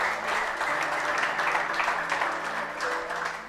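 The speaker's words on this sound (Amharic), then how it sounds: "ማነው ጭብጨባ ያለው ለኢየሱስ?" Congregation applause in a church service, a continuous burst of many hands clapping at moderate loudness, steady throughout the short stretch.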